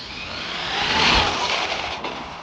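A fast RC car motor at full throttle gives a loud, steady high-pitched whine that swells around the middle and then eases off in short bursts.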